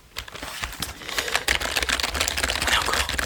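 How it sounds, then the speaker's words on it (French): Fast, close clacking of keys on a mechanical gaming keyboard, a dense run of crisp clicks that builds in loudness and speed, with no voice. "On est encore sur un clavier mécanique. Là vous l'entendez au son."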